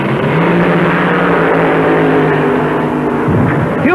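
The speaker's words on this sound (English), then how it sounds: "it looked like the entire top of the engine blew right off" A supercharged drag racing car at the 1974 NHRA US Nationals, its engine a loud continuous roar that holds steady and then breaks up near the end as the engine blows.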